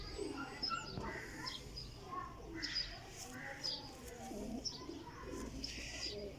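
Zeera flying pigeons, champion fliers from a pigeon loft, coo in low rolling bursts that repeat steadily, with someone talking over them throughout.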